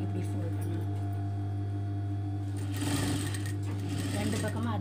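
A sewing machine stitches a crop top in steady, continuous running with a loud mechanical hum close by, its texture shifting briefly midway as the fabric is handled and folded.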